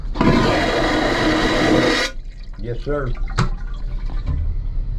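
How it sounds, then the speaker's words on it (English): A vacuum flush toilet in a cruise ship cabin flushes with a loud, broadband rushing whoosh lasting about two seconds, cut off abruptly, followed by someone speaking briefly nearby. "The toilet is a vacuum flush toilet, so don't be afraid when you flush it."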